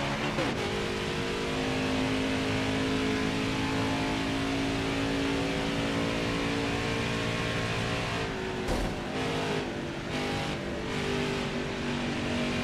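Race car engines in the NASCAR Heat 5 racing game roar in a loud, continuous drone that holds steady throughout, with a brief dip and shift in pitch near the end as cars jostle in traffic.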